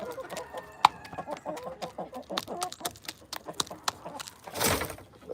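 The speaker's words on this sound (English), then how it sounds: "Here's the chickens right here." Several hens cluck and chatter close by in quick, uneven bursts, with a brief rustle of movement near the end.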